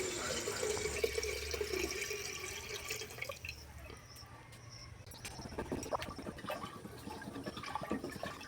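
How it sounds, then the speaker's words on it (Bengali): Milk poured into a cooking pot of fried rice for payesh, a continuous liquid rush at first that thins into lighter splashes and drips. No one speaks. "এবার দুধটা ঢেলে নেব।"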